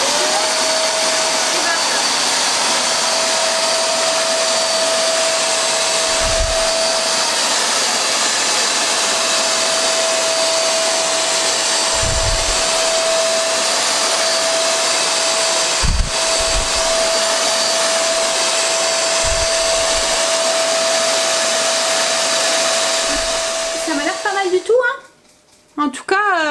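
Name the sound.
wet-dry vacuum cleaner washing and sucking the floor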